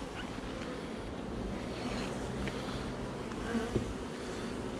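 Ligustica honeybees swarm around their hive in a steady, dense buzz that stays close and constant throughout, with no voices.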